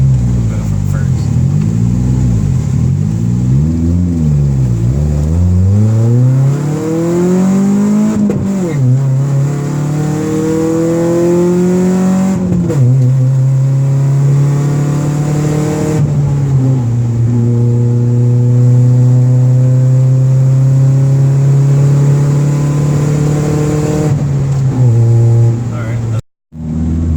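A turbocharged car, a cheap project build, accelerates hard from first through several gears, its engine note sweeping up and dropping at each shift, loud and close throughout before cutting off at the end.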